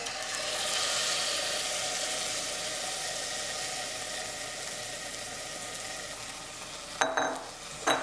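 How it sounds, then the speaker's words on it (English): Crushed and petite diced tomatoes go into a pan of translucent onions and garlic with Italian seasoning for a simple tomato sauce, giving a steady loud sizzle and hiss, then a few spoon clinks and stirring near the end. "Now we'll add our tomato product."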